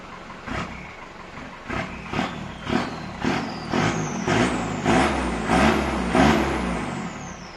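A pickup's stock 2.5-litre engine with its original turbo revs repeatedly, each rev ending in a rising turbo whistle and a hissing blow-off, in a steady series of bursts recorded near the rear exhaust outlet.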